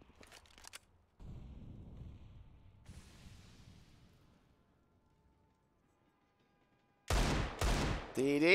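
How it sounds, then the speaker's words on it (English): Desert Eagle pistol shots in a Counter-Strike match on the map Train, a few sharp cracks early and a loud burst of closely spaced shots near the end, with quieter game noise in between. "Deagle shots from Savage trades back on Excurate, taking him down to a 4v4"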